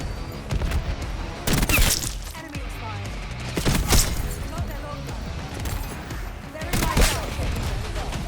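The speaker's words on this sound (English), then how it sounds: "Who the hell is shooting me?" Rapid gunfire crackles and pops in the video game Black Ops 6, shots coming in scattered bursts over a steady game soundscape, with a voice speaking over it.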